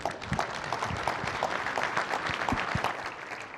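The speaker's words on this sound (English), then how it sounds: "Let's give him a round of applause." Steady applause from a crowd at an opening session, dense clapping at an even level throughout with no talking over it.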